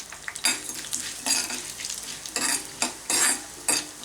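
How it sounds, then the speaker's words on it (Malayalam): Coriander seeds fry in hot coconut oil while being stirred, giving a steady sizzle broken by about six bursts of scraping as a spoon moves them around the pan, close and fairly loud with no talking. "ഈ സമയത്ത് നമ്മൾ മല്ലി മാത്രം നമ്മൾ ആദ്യം ഒന്ന് വറുത്തെടുക്കാം."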